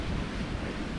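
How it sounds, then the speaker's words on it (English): Rough sea swell washes against the side of a pier at Whitley Bay on a cold sunny day, a dense roaring surge mixed with wind buffeting the microphone, close and unbroken. "There's a bit of a swell, so it hits the side of the pier."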